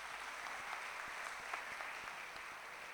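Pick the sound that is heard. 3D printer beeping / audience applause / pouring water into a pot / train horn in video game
audience applause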